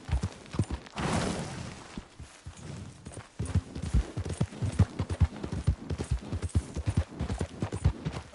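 Horse hooves from Red Dead Redemption 2 pound in a fast, uneven galloping rhythm, close and fairly loud, with brief breathy bursts and no clear talk.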